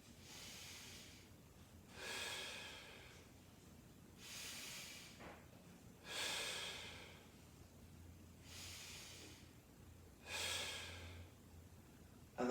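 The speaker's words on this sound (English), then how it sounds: "We're going to take a nice deep breath in. We're going to breathe out." Slow deep breathing in and out during a hip and low-back mobility exercise, airy breaths arriving in a steady rhythm roughly every two seconds, close and soft, with no talking.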